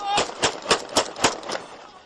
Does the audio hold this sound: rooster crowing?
no